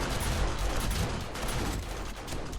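Rapid bursts of M4 rifle fire fitted with a rod and spring mod in 7 Days to Die during a horde night, a dense, loud, continuous rattle of shots with no pauses.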